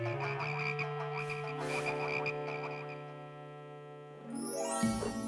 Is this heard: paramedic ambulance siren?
no